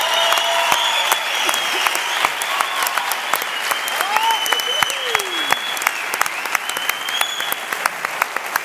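A theatre audience claps and cheers for a Baeza band, a dense, loud, continuous wall of applause with whistles and shouts rising through it.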